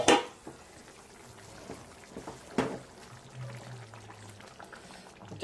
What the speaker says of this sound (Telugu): చేపలు పులుసులో గుమ్మగుమ్మ ఆడిపోతుంది